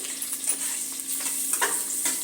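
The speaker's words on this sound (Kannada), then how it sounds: "ಚೆನ್ನಾಗಿ ಫ್ರೈ ಮಾಡ್ಕೊಳ್ಳೋಣ" Onions and green chillies fry in a pan for a biryani, a close, steady sizzle broken by scraping stirs, with no talking.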